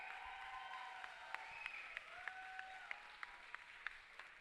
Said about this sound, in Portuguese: uma salva de palmas, faz barulho aí, Circo Voador!